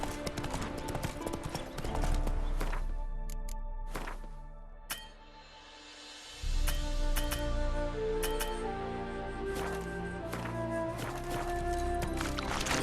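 Horse hooves clip-clop steadily in The Witcher 3 video game, a loud rhythmic trot with clinking tack that briefly fades in the middle and then resumes strongly, with no talking.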